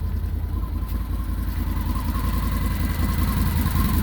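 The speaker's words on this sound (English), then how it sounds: "Here's the motor running." A 2020 Can-Am Defender Limited MAX side-by-side engine idles close by, a steady, rapid throbbing rumble with a faint whine, no voices.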